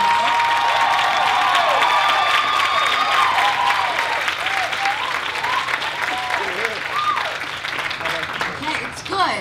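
A university audience at a fashion challenge event gives sustained, loud applause with some cheering and crowd noise, clapping steadily throughout as a judge is introduced.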